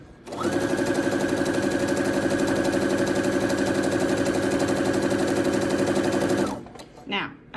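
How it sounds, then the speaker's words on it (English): Sewing machine running steadily as it stitches the edges of a pillow insert, a loud, continuous rapid mechanical whir for about six seconds before stopping, followed by a brief rustle. "Let's go ahead and just sew this."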